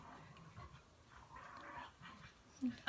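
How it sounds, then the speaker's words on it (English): Dogs pant and faintly whimper in the background of a quiet indoor room, a low, steady breathy rhythm with soft whines. "If you can hear my dogs in the background,"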